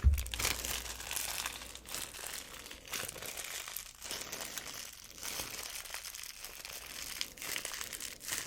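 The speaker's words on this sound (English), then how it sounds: "Crinkle sounds are one of my favorites." Foil wrapper of a Magic: The Gathering Bloomburrow collector booster pack crinkling and crunching up close, a steady run of soft, dense rustles with no talking.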